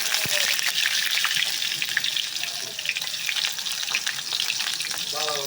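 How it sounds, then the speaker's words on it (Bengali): Chopped onions sizzle loudly and steadily in hot oil for a Bengali dal, with a constant hiss, an occasional stir and a faint voice in the background. "তেল গরম হয়ে গিয়েছে, এখন আমি পেঁয়াজ দিয়ে দিব।"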